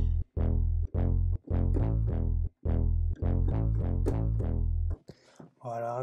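Synth brass preset from a Serum sound bank remaking a signature horn sound, playing a run of loud, punchy stabbed chords with short gaps between them, followed by a brief tail and a sustained tone at the end.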